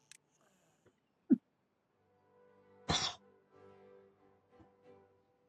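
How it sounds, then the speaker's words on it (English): Sneezes inside a game, first a sharp nasal burst and then a louder, breathier one a couple of seconds later, against a faint background hum and some quiet voiced sounds. "Instead of hiccups, it sounds like you gave yourself sneezes."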